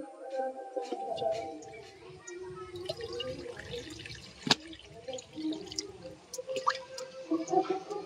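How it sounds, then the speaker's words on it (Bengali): Water pours and splashes into a wok set on a lit stove, a continuous trickle with scattered drips and one sharp clank partway through, fairly close and moderately quiet. "কড়াতে বেশ কিছুটা জল দিয়ে দিচ্ছি।"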